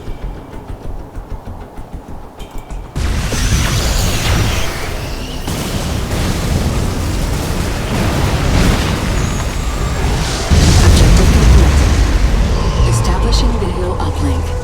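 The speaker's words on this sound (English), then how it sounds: "this weapon can level an entire base, potentially, with one blast" A superweapon blast levels a base in the Command and Conquer 3 Tiberium Wars campaign, a sudden loud roaring explosion that rumbles on with a deep boom surge, under game voice talk.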